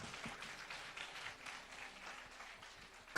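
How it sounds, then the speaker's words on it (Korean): A congregation at a church youth camp in South Korea gives a round of steady applause, faint and somewhat distant, with no speech over it. "주님께 뜨거운 박수 원합니다."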